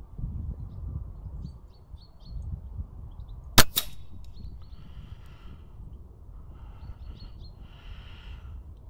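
A single sharp crack of a TX200 air rifle firing at a 100-yard target outdoors, standing out against quiet wind rumble, with birds chirping faintly before and after.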